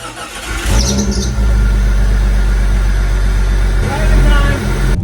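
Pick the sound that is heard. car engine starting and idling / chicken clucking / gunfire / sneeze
car engine starting and idling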